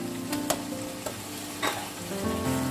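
Taki fish frying in a sautéed spice masala, a steady broadband sizzle with a few sharp stirring clinks near the start and middle, while a faint tonal hum rises and falls underneath, no voices.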